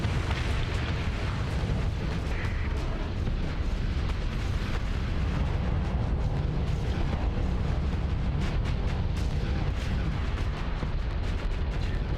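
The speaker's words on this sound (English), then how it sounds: "but still firing shots" Spaceship weapons firing in Starsector, a continuous dense barrage of booming shots and blasts with no letup, loud and heavy throughout.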